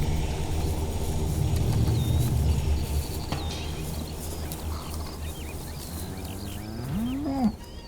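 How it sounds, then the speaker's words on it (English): Highland cattle on a farm low in deep, drawn-out moos over a steady rumble of outdoor ambience, with one rising, close bellow near the end. "Mark's team of Highland cattle may be mighty beasts"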